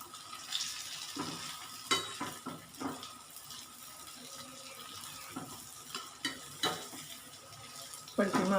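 Gulgule fritters fry in a crowded pan over a high gas flame, giving a steady hiss with scraping and clattering stirs and knocks throughout.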